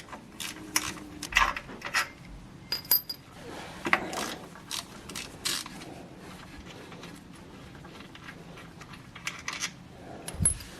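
A hand ratchet clicking in short bursts as bolts come off a BMW E36 belt tensioner, close and fairly quiet, with scattered metallic clinks and tool handling between bursts and no talk.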